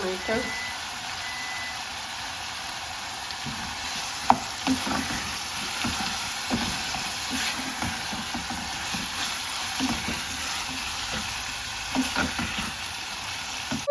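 Potatoes fry in a pan with a steady, even sizzle and hiss throughout, broken by a few soft stirring scrapes and taps.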